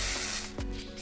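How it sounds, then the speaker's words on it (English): Aerosol wig spray hisses in a broad steady burst for about half a second, then cuts off, followed by a shorter faint spritz near the end. "So I'm gonna spray some wig dealer spray."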